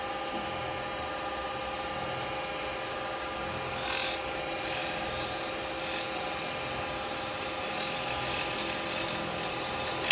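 A woodturning lathe spins a resin goblet cut with a carbide chisel, giving a steady whirring hum with continuous scraping and rasping, close and even throughout, no talk.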